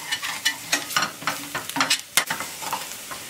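Whole cumin seeds drop into a sizzling pan sauce for a chicken mole, bringing a run of crackly sizzle bursts and stirring scrapes, close and fairly loud, with no voice.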